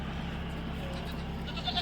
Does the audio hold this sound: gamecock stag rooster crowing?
no